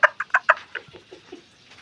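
Several quick, sharp clucks from chickens in a rapid burst, followed by softer, lower clucking that trails off. No one is talking.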